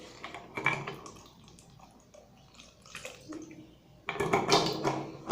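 Water being poured and splashed while slime is cleaned up, coming in irregular close splashes and trickles with a louder, sustained gush near the end.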